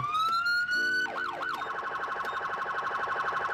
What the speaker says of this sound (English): let's hear the sirens on this